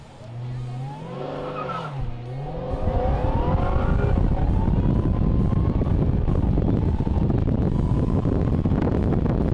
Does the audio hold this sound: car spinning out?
yes